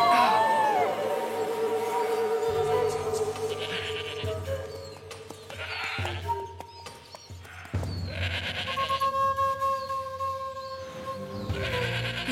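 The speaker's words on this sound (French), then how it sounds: "Une chèvre dans la forêt? C'est étrange tout de même." In an animated forest scene, a goat lets out several wavering bleats, close and fairly loud, set against a busy background of other ambient sound.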